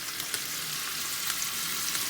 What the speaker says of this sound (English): Start to sizzle.